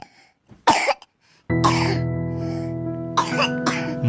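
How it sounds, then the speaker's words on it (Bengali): A wet, harsh cough laced with blood, performed as a sound effect in a Bengali horror audio drama, comes in several rough bursts close to the mic, with a sustained droning tone underneath. "থকথকে রক্ত মেশানো কাশি।"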